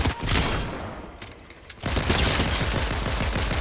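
Rapid bursts of gunfire in the video game Fortnite, loud and close, a dense barrage that dips briefly before resuming in sustained fast volleys.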